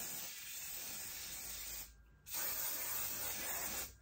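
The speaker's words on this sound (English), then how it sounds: "I'll just get the spray." Hair spray misted onto short curly hair in two long continuous hissing bursts separated by a short pause, close and steady.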